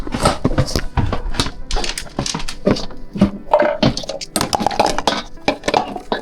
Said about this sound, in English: These are dirty dishes.